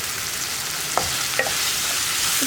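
Tomato masala for masala bread gets stirred in a frying pan, a steady sizzle with a few soft spoon scrapes against the pan, close and alone.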